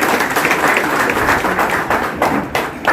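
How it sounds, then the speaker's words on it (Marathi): Applause at a Bharatiya Janata Party gathering, a dense, steady wash of many hands clapping together for about three seconds, fairly loud and close, with no clear voices over it. "जोरदार तुमच्यासाठी टाळ्या होणं गरजेचं आहे"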